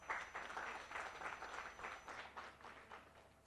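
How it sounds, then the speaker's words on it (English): An audience applauds at an academic program session, a soft, distant patter of many hands that rises and falls briefly, with no speech over it. "A round of applause, please."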